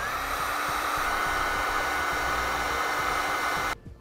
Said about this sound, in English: Now we'll use a heat gun, which we have available on our website, to shrink down our butt connectors.